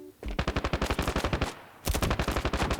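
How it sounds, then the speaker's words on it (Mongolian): Automatic gunfire in a round-based shooter video game: two loud, close bursts of rapid, evenly spaced shots separated by a brief pause. "Нэг бууга барьчихсан. Тэгэл буудаад буудаж гинөө."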